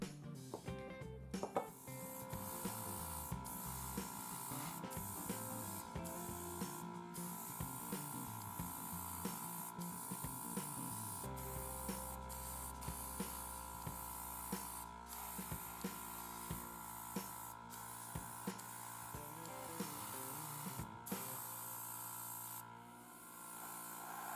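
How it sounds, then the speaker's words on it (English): An airbrush sprays paint onto a plastic model kit with a continuous, close hiss, interrupted by short breaks and clicks as the trigger is released, over a steady background tone. "I paint the inside of the panels first and then gently mist over the panel lines and the pre-shading."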